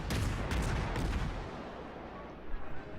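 Naval gunfire from a battleship engagement in the World of Warships game, a dense rumbling barrage of heavy shots that booms loudly for over a second, then fades into a lower rolling rumble with a few later thumps.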